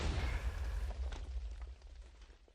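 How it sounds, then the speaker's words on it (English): Fireworks burst in the video game Far Cry Primal, a dense rumbling wash of overlapping booms and crackles that is loudest at the start and slowly tails off. "Fireworks!"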